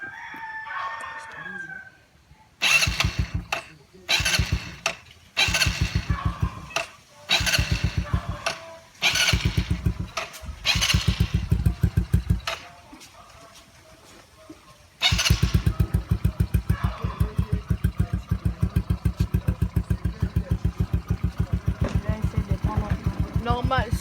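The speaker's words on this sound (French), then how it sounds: "Quand le moteur est froid, pour le démarrage devient compliqué" A Yamaha Raptor 90 quad engine, cold, is cranked repeatedly, catching in short bursts with long pauses between attempts, then fires and settles into a loud, steady, close idle.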